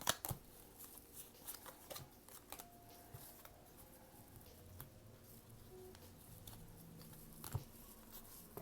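Cards of a circular tarot-style deck being shuffled, with soft repeated riffling and patter bursts close by, quiet and intermittent over a faint room background.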